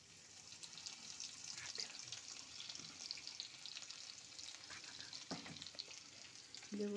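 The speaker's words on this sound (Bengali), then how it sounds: "তেল গরম হয়ে গেছে। এখন শুকনো লঙ্কাটাকে ফাটিয়ে দেব আর দেব কালো জিরে" Dried red chillies, nigella seeds and chopped garlic crackling in hot oil in a home kitchen, a faint steady sizzle with scattered pops and a few utensil knocks, ending in a short clatter.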